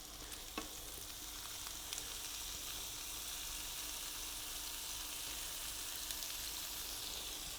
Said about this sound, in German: Jetzt brutzelt die Butter.